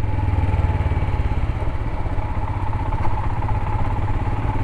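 A Royal Enfield Himalayan motorcycle, fitted with top cases, being ridden with its engine close and loud, a steady thumping single-cylinder drone with rhythmic pulsing and no talk over it.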